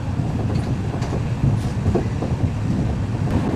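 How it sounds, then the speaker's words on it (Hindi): A passenger train runs past a railway halt on an electrified line, heard from on board as a steady loud rumble with rhythmic wheel clatter and no talk. "फिलहाल हमारी ट्रेन स्किप कर रही है बुगिया हॉल्ट रेलवे स्टेशन को"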